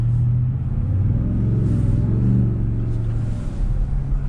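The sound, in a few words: Ford Shelby F-150 truck supercharged engine revving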